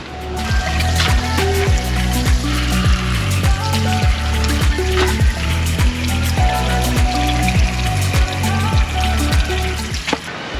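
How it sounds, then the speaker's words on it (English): Water runs steadily from a rinse tap or foot shower at a beach resort in Huatulco, Oaxaca, Mexico, washing sand off feet; a continuous close splashing trickle with no talk. "Always feels so nice to rinse the sand off your feet when you come off the beach."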